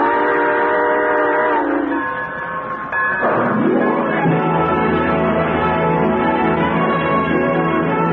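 A steam train pulls out as a radio-drama sound effect, a loud chugging roar with a ringing bell and a long, swelling whistle blast that bends in pitch, sustained for several seconds without talk.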